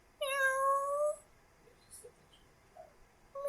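A voice imitating a cat, giving one long, clear, rising meow, then near-silence before a second meow begins right at the end.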